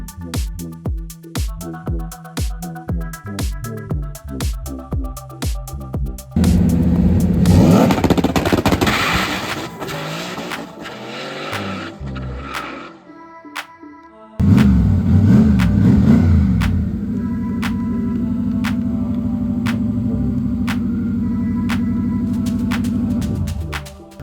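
A racing car's engine revs hard during a test pass at a drag racing shop: loud, rough bursts of acceleration, then a sudden silence, then the engine roars back and holds a sustained high drone to the end.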